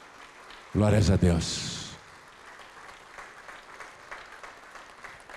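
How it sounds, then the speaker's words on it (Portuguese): A church congregation applauding quietly in the background as a loud voice exclaims over a microphone at the start, then the clapping carries on softly and steadily alone. "Vamos aplaudir mais ao nome do Senhor."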